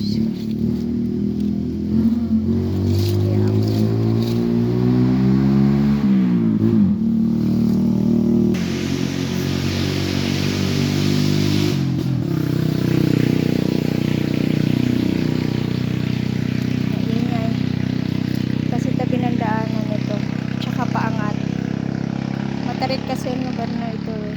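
A vehicle passes by on a rural farm road, its engine droning loud and close, with a pitch that rises and falls as it approaches and moves off, under brief talk.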